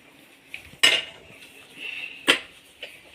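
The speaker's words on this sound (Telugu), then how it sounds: "పాలు పక్కన పెట్టి కడాయి పెట్టుకున్నాం." A metal kadai is set down on a kitchen stove with two sharp clanks, followed by a few lighter metallic knocks and scrapes in a quiet room.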